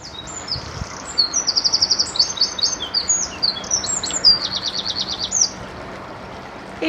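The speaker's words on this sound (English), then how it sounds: "you can still hear the birds chirping." Birds chirp in quick repeated trills beside a canal lock at Braunston near a main road, several bursts of rapid high notes over a soft steady background rumble, fairly close and clear.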